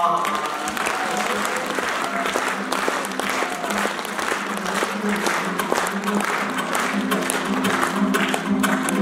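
An audience at a Kazakh aitys poetry contest in Kyzylzhar claps steadily for several seconds, a dense, even wash of applause from a crowd with no break in the sound.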